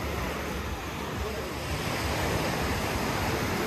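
Sea waves wash steadily onto the shore at Sudak, Crimea, a continuous loud surf roar with wind noise over the microphone and no distinct breaks.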